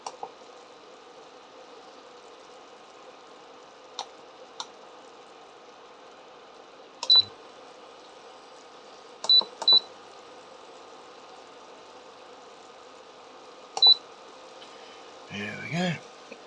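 A cooking appliance timer gives short, sharp electronic beeps, singly and in quick pairs, spaced several seconds apart over a faint steady hum from a pot of curried sausages.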